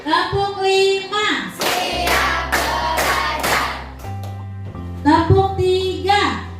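Schoolchildren in a classroom clap together in a counting ice-breaker game, with several crisp group claps in a quick, even rhythm. A voice speaks before and after the claps, and a low steady hum runs underneath.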